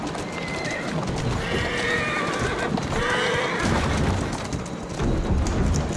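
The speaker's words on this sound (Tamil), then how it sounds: "குதிரை ஓட மாட்டேங்குது." Horse neighing and whinnying with clip-clop hooves in the Assassin's Creed Syndicate video game, set against a steady bed of game ambience that sounds like rain and distant thunder. The horse calls come in several repeated bursts and stay fairly prominent throughout.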